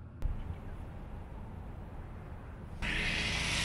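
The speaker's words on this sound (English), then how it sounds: "Excuse the lawnmower in the background" A lawnmower drones steadily in the distance outdoors, a low continuous rumble under a brief knock, with a brighter hiss joining near the end.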